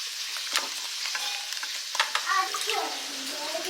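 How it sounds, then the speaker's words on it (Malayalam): Lobster head and shell pieces cook in an onion and tomato gravy in a pan, giving a gentle close sizzle and bubbling with wet stirring scrapes and small clinks; no speech is heard. "അതിലേക്ക് നമ്മളെ ലോബ്സറിൻ്റെ ഹെഡും ആ ഷെല്ലും കൂടെ നമ്മൾ ഇട്ടൊന്ന് ബ്ലാൻ ചെയ്തെടുക്കണം"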